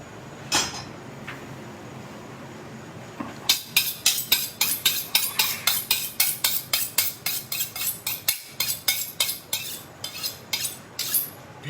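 Close, sharp metallic rasps as a kitchen knife is drawn repeatedly against a steel, a few slow strokes first and then a fast, even run of rhythmic scrapes.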